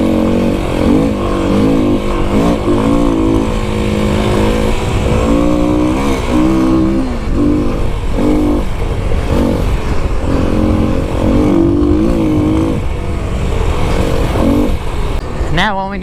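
A Kawasaki KLX300 dirt bike ridden across open desert, its single-cylinder engine revving up and down in short surges throughout, loud and close with rushing wind, as if heard from the rider's position.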